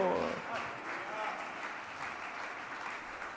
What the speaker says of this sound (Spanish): Dale ofrenda de palmas a Dios.